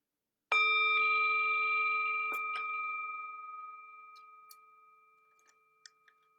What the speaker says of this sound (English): The sound of the bell returns us to our true home.